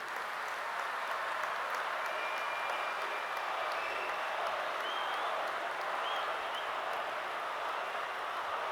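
A large crowd at a public ceremony with the Indian prime minister applauds steadily, a dense, even roar of many hands clapping heard from a distance throughout, with no talking.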